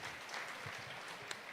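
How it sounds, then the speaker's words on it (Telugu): An audience at a government flood review meeting claps in faint, steady applause heard from a distance, with a sharp clack right at the end. "వారందరికీ గట్టిగా చప్పట్లు కొట్టి"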